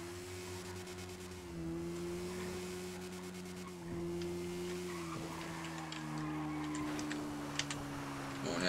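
A GTA 5 motorcycle engine with a faulty exhaust idles and revs in a steady, low droning hum, with faint ticking clatter on top. It is fairly quiet and close, and no one speaks.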